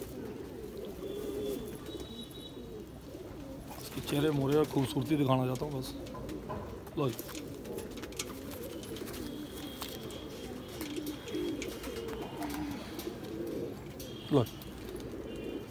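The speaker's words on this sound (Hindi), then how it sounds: "ये कलसरा कलपोटिया कलदुम्बा कबूतर" A Kalsara Kalpotiya Kaldumba pigeon coos in deep, rolling phrases close by, a louder burst standing out partway through, while someone talks over it and brief chirps and clicks occur.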